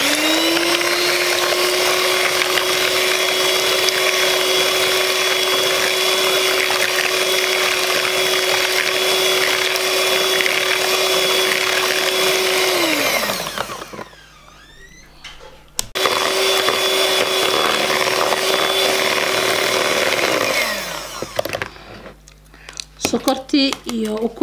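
A kitchen mixer whirs steadily as it blends sugar, egg yolks and Blue Band margarine for a cake, running loudly for about thirteen seconds, stopping briefly, then starting again before shutting off.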